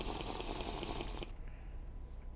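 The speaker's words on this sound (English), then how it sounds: "Actually, we might as well just grab a little bit of extra water here." In the TerraFirmaCraft video game, water is collected with a bright, rushing gurgle that plays for about a second before stopping abruptly, leaving quiet background.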